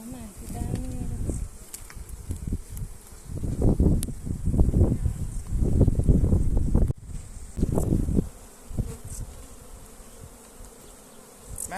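Honeybees buzz densely at a three-story beehive outdoors, swelling in loud close waves as the hive is worked, with wind and rustling mixed in.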